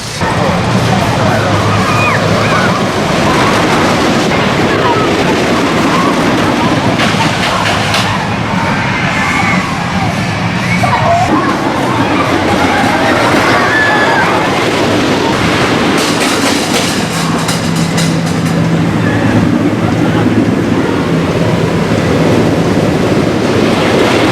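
Thunderhawk, a wooden roller coaster at Dorney Park, rumbles and clatters on its track for a long stretch, loud and continuous, with crowd noise and voices mixed in.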